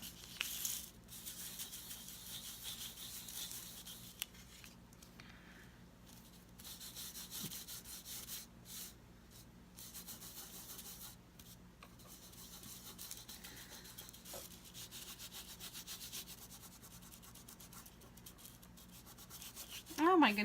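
Gilding flakes rubbed by hand onto a surface, a soft continuous brushing and scuffing that runs quietly throughout, with a faint steady hum beneath and a brief louder touch at the very end.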